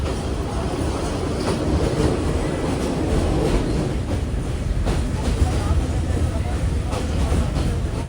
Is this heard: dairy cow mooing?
no